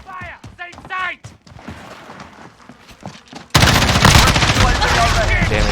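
Call of Duty Modern Warfare gunfire: scattered shots and voices early, then a loud burst of continuous automatic fire erupting partway through and hammering on to the end.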